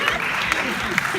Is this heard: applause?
yes